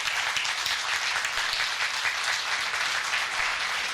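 An audience claps at a televised political talk event, a steady, dense wash of applause from many hands held at an even level for the whole stretch, with no voices over it.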